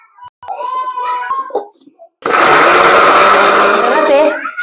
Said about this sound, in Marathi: आता मी तो मिक्सर मध्ये सगळा व्यवस्थित काढून घेते बारीक